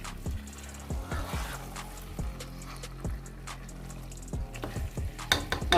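Aloo gobi is stirred in a pan over steady sizzling, a spoon scraping in regular strokes roughly every second, close up with no talking.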